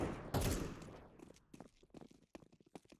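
Burst of video game gunfire opening loud at the start, followed by a string of sharper, spaced shots and clatter fading lower over the rest, in a game map played with superpowers.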